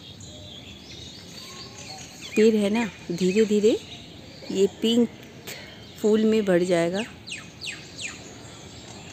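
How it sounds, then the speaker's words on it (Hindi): A parrot calls from a neem tree in a series of harsh, repeated chirps in two bursts, fairly near, while someone talks in between. "ये तोते का आवाज़ है।"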